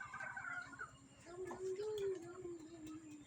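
Chickens kept at a rural home clucking and making drawn-out calls, fairly faint, with low rumbling and faint talking in the background.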